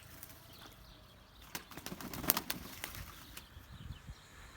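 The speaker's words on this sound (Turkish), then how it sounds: "Bugün kuşların banyo zamanı arkadaşlar." Faint, scattered bursts of pet birds flapping their wings and splashing while bathing, with a few soft bird sounds, quiet and intermittent over a low background.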